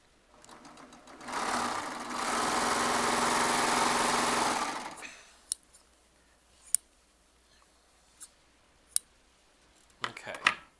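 A Baby Lock Triumph serger stitches and trims fabric selvage edges in a steady, loud whirring burst of about three seconds, then stops, leaving a few sharp clicks and taps from handling the machine.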